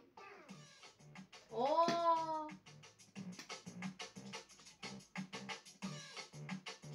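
A cartoon kitten by a trash bin meows in the Friday Night Funkin soft mod video game: a short rising meow, then a louder drawn-out one, over soft pulsing game music.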